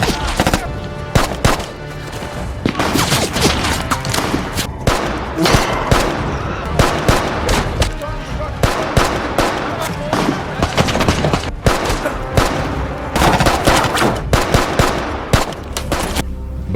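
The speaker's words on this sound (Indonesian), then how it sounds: "Sam masih terus baku tembak dengan anak buah Zalam yang masih tersisa" A film gunfight is loud and dense, with machine gun bursts and scattered shots firing almost nonstop and layered over heavy action sounds throughout.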